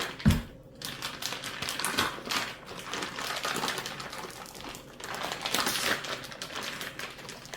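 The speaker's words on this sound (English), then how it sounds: "Let's open this up. These handy dandy scissors come in handy dandy." Scissors cut open a package: rapid clicking snips and crinkly rustling of packaging, close and fairly quiet, with a sharp snap near the start.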